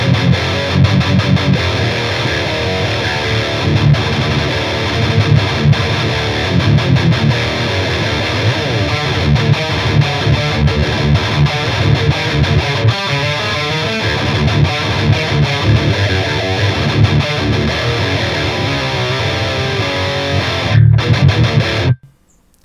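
High-gain distorted electric guitar playing rock and metal rhythm parts through an amp simulator, a dense, continuous wall of saturated chugging riffs sustained for about twenty seconds before cutting off abruptly.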